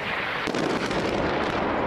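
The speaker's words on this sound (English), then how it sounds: "an Al Jazeera reporter was running away to save himself while on air as a large explosion hit a building behind him" A large explosion strikes a building during a live news broadcast, a loud deep roaring blast with rumbling debris noise that fills the whole stretch.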